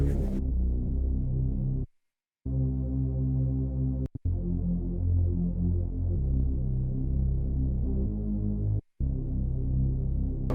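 A synthesized Reese bass plays loud, thick, droning low notes in a sustained line, shifting pitch between notes and gliding upward, with a few abrupt silent gaps.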